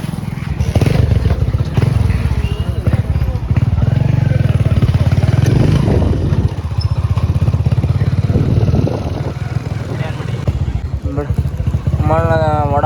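A motorcycle engine close by, running steadily and loud throughout with a rough, rattling idle, while people talk over it.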